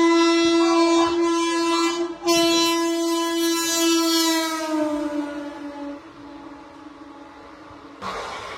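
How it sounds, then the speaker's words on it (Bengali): A small local passenger train pulling into a station sounds a long, loud horn blast that breaks briefly and resumes, then fades into rolling wheel noise, with a short renewed burst near the end. "ট্রেনটা ছোট ট্রেন, হ্যাঁ বাইরের ট্রেন কিন্তু ছোট"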